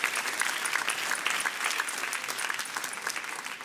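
An audience at a Cardano Summit awards ceremony applauds the nominees, dense, even clapping that holds steady throughout and fades slightly at the end.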